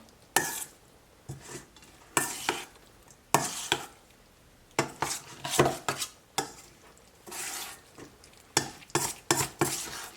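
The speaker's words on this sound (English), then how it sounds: "Now I'm going to stir it." Lionfish being stirred in chili oil, with scattered scraping clinks of a utensil against a pan in irregular bursts over a soft sizzle, close and moderately loud.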